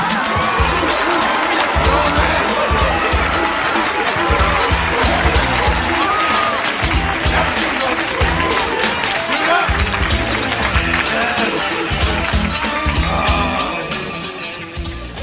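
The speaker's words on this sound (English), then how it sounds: "So please, give a big round of applause to Mr. Roland Big." Loud, continuous audience applause with cheering on the TV sketch comedy show In Living Color, a dense roar of clapping that holds steady and then eases slightly near the end.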